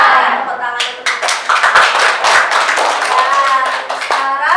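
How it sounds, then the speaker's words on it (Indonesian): A classroom of students claps their hands together in a lively rhythmic burst, loud and close, with voices chanting along over the clapping. "Tepuk tangan untuk kita."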